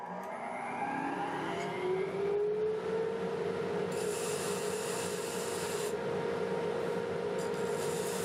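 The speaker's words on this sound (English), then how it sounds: "So we'll just sand this, and I can use my dust collector over here." Steady abrasive rasp of an 80-grit MDF sanding disc working segmented scrap wood for a turning, with a dust collector's constant whoosh running underneath throughout.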